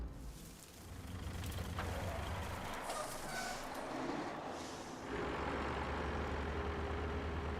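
A dump truck's heavy diesel engine rumbles steadily as it arrives in the RoadCraft construction game, with a hiss like an air brake partway through and a deep, continuous low drone throughout.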